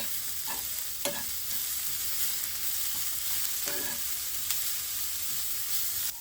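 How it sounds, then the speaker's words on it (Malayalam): Sliced onions with salt frying and being stirred in a pan, a steady bright sizzle with a few spatula scrapes and taps cutting through, close and continuous. "നമുക്ക് ഉപ്പും കൂടെ ഇട്ടിട്ട് നല്ലോണം ഇളക്കി കൊടുക്കാം"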